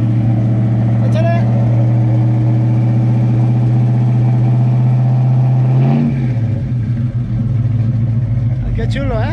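A classic car with a 3.5-inch Magnaflow exhaust idles loudly up close in a deep, steady rumble, then the note drops and loosens near the end while people talk over it.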